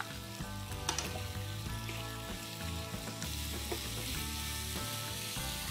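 Onion, garlic and coriander paste fries in hot ghee with a steady, close sizzle, joined by a low hum and faint stirring scrapes throughout, with no talking.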